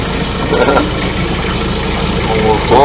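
A sailing boat's engine idles steadily and close by, a continuous mid-to-low rumble that runs throughout with brief voices over it.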